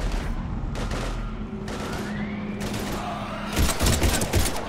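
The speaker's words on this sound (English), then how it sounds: "We're taking heavy fire." Heavy gunfire in the Mass Effect 3 video game on Xbox 360, a dense continuous fusillade of rapid shots that swells louder near the end, with little talk.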